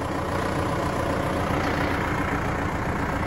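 A large farm tractor used for feeding silage to a cattle herd idles close by, a loud, steady low diesel rumble with no change in pace.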